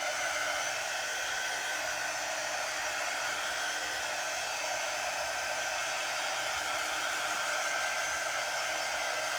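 A hair dryer blows steadily at close range, drying a painted star-shaped craft surface, its even whir running unbroken with no talking.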